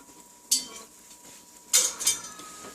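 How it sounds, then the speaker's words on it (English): Pizza dough pressed into a skillet for a fireplace pizza is poked with a utensil, giving a few sharp metallic clinks and taps against the pan, separated by quiet stretches. "The dough is now in the skillet. I'll be poking the bottom with holes."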